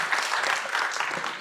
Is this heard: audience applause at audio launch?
yes